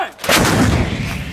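Marines fire an artillery gun during a military exercise: one loud, close blast with a sharp crack, followed by a rolling, booming echo that slowly fades.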